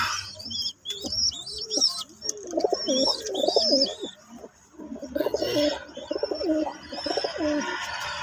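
Big Rajshahi Kaldom pigeons, the Kalshira Kaldom type, coo in repeated soft rolling phrases close by, mixed with thin high chirps and a few faint rustles, no voices present.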